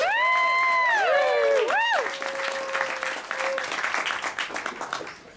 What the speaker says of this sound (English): Please give a PechaKucha round of applause for Brendan Bane.